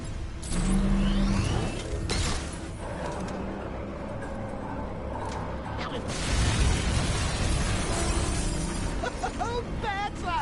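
Explosions at Ace Chemicals in Batman: Arkham Knight come as heavy booms and crashing debris over several seconds, loud and layered with game effects and rumble.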